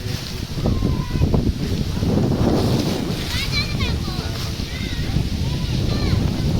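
Strong wind sweeps across the Garland Peshok tea estate in Darjeeling. It buffets the microphone in a steady, loud roar throughout, with faint voices partly buried beneath it.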